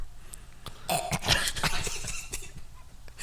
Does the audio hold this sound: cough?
yes